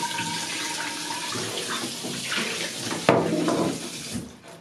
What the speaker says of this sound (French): avant de le mettre dedans, je vais donner un petit coup de rinçage